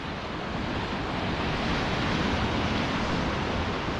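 Rough sea waves churn and roar against a harbour wall in a loud, continuous, broadband rush with steady wind buffeting the microphone and no pauses.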